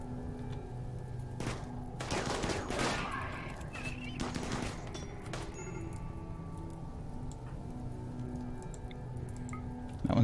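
Bursts of gunfire from a firing line in the colony game RimWorld, rapid crackling volleys clustered early, then sparser ticking shots over a low steady background hum.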